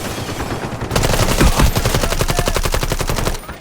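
An AUG rifle in the video game Delta Force fires one loud automatic burst of fast, evenly spaced shots that lasts about two and a half seconds, followed by a quieter tail.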